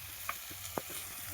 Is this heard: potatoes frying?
yes